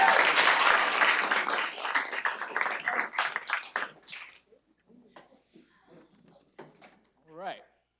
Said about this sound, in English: Let's give Dust Mac another round of applause.